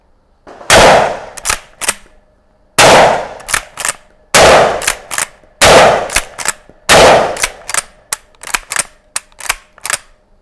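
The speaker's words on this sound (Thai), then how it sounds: "ลองยิงดูนะครับ จำนวน5นัดไปที่เป้ารูปคนนะครับ ระยะ 10 เมตร" Five loud shotgun blasts from an Italian Fabarm Martial pump shotgun, fired at a human-silhouette target 10 meters away. Each sharp report has a short echoing tail, and lighter clanks and clicks follow between shots.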